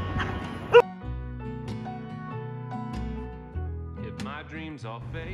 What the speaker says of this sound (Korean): 얘가 계속 위에 올라서 짖어가지고 다른 개들이 못 올라와요.